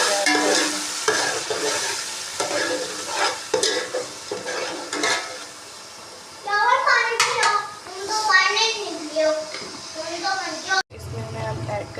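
Onions frying in a pot as ground masala is stirred in, with loud sizzling and scraping stir sounds throughout and a voice talking over the cooking.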